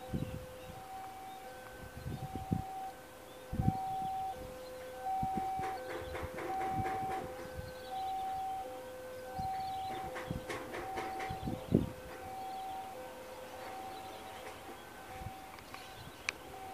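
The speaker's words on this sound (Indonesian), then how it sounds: "Apalagi ditambah dengan kereta yang berjalan super pelan ini." A train rumbles very slowly past at close range at a railway crossing in Indonesia during new switch installation work, while a crossing bell dings in a steady repeating pattern, with creaks and clanks from the wheels.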